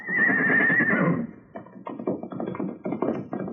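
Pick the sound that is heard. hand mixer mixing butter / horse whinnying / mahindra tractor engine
horse whinnying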